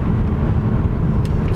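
Steady low rumble of road and engine noise inside a moving car, loud and constant with no break across the short stretch.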